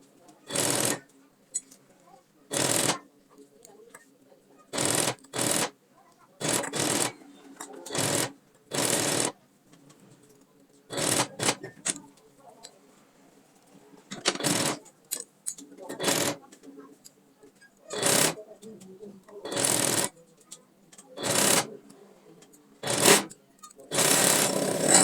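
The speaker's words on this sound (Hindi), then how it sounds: "अब मैं इसको मोड़ते हुए इस पर सिलाई लगा दूंगी," A sewing machine stitches a folded V-neck onto a kameez in short rhythmic runs, each burst of stitching separated by quiet pauses, with a voice speaking at times between the runs.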